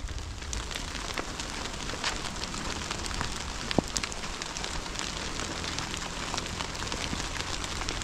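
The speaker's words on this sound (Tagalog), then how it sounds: "Pare, ni ulan." Steady typhoon rain patters on surfaces close by, a dense hiss with scattered louder drops and no voices.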